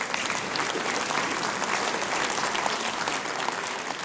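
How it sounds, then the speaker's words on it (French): Audience applause for round-table guests at a business technology forum, a steady dense clapping that fills the whole stretch at an even level with no talk over it. "Voilà, on peut les applaudir."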